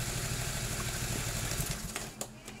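Electric starter motor on a carbureted Honda Vario/Beat scooter being cranked, a steady whirring mechanical drone that runs for about two seconds before tapering off, close and fairly loud with no talking.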